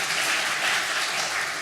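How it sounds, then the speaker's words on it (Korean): A church audience gives a short, steady round of applause, dense and even throughout. "박수 한번 쳐주세요"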